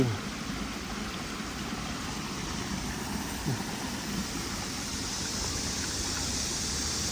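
Steady flowing stream water at a fish spawning spot, a continuous broadband rush held at an even level throughout with no voices.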